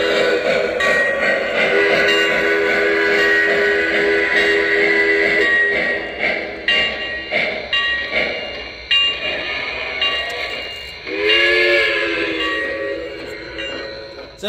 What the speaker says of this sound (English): that is a fantastic steam locomotive